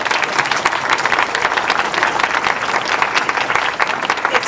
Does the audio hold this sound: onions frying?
no